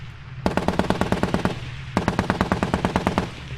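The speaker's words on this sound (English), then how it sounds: "The guy's firing his coax machine gun here too." Coaxial machine gun fires in the armored vehicle game Armored Warfare, in two loud rapid bursts of evenly spaced shots with a short pause between them, over a low engine rumble.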